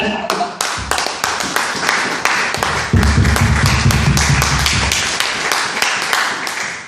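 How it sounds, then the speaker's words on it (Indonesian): A church congregation claps hands for Jesus, a loud run of rhythmic claps and taps over a sustained musical tone, with voices faintly underneath. "Mana tepuk tangannya, Tuhan?"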